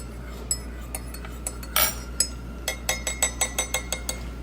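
Glasses clinking together in a toast at a locally owned cafe over breakfast, a run of bright sharp clinks and chinks, some single and some in quick succession, over a low room hum.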